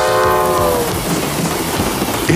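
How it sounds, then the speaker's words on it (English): A big train rolls past with a horn sounding at the start, then a steady rumble and clickety-clack of the wheels on the rails, loud and close, with no talk over it. "And there goes a train."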